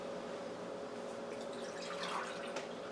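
Vinegar poured into a cooking pot while making peach pepper relish, a soft, faint continuous splashing trickle of liquid over a quiet kitchen hum.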